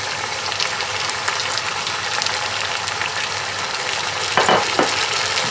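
Onions and tomatoes fry in a pan with a steady broadband sizzle, while a spoon stirs through them and scrapes twice near the end.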